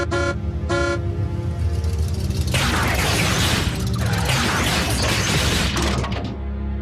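Two short car horn honks near the start, followed by a loud rush of engine and mechanical noise with crashing clatter, ending in a steady hum, in a Transformers Prime cartoon episode.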